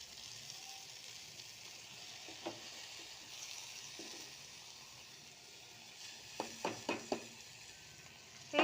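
Coriander leaves lightly frying in oil, a faint soft sizzle with a few scattered clicks and a quick cluster of utensil taps toward the end, no speech.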